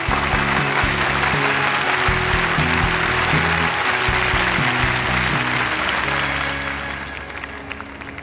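An audience applauds as a design studio is introduced to present its products at a competition, steady clapping over a backdrop of stage music, fading slightly near the end.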